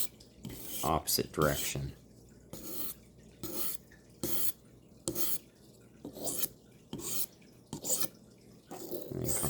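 A knife blade drawn in repeated slicing strokes across a sharpening stone, about ten rasping scrapes in steady rhythm, close and moderately loud, with a brief spoken remark between strokes.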